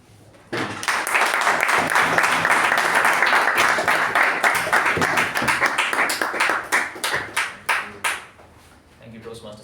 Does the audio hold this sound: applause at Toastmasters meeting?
yes